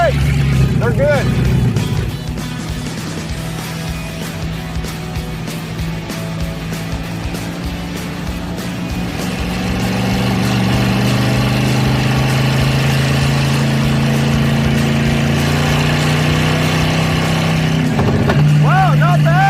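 A 1964 Chevy Nova sleeper's engine droning loudly from inside the cabin, a steady low hum that rises in pitch partway through as the car accelerates, with people talking over it.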